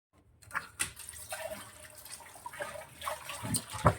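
A cloth soaked in salt water is wrung out by hand, releasing soft, close trickles and scattered drips of water in irregular bursts, quiet overall with no talking.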